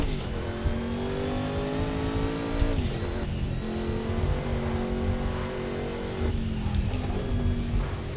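Race car engine in the Project Cars 2 racing game drones steadily and loudly at high revs, with pitch dips at gear shifts and brief lifts, heard alone without talk.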